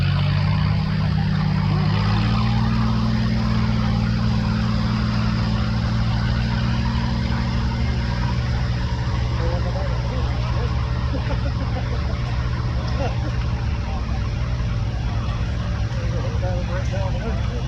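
A 1959 560 gas tractor drives in a threshing show parade, its engine a steady low drone throughout, loud and close, with crowd noise and announcer talk layered over it.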